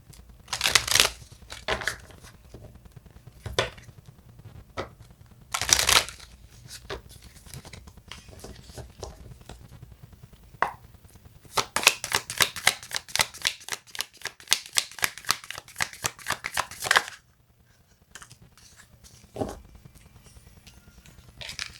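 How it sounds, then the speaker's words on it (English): Tarot cards being shuffled up close: several short riffling bursts, then a long run of rapid flutters before it stops. "Let me shuffle and then I'll pull one card."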